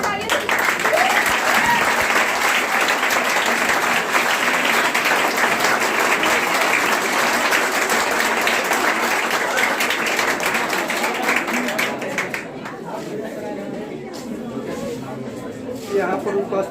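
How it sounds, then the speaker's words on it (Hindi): A roomful of students and teachers at a Class 11 Teachers' Day celebration gives loud, sustained applause for about twelve seconds, then it thins to lighter clapping. "जोरदार तालियां।"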